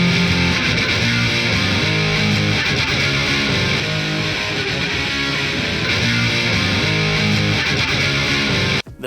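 Heavily distorted electric guitar through a Mesa amplifier, dialed toward a Kurt Cobain grunge tone, plays a loud, steady riff of chugging low chords that continues without pause for the whole stretch and cuts off abruptly at the end.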